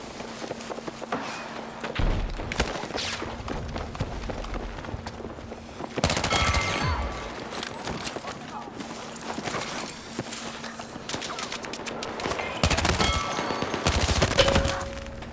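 Suppressed automatic gunfire in the video game Battlefield 6 comes in repeated muffled bursts of rapid shots, loud and close, separated by short pauses and footstep thumps.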